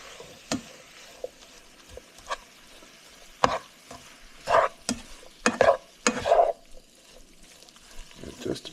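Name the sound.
stirring chicken and sausage ramen stir fry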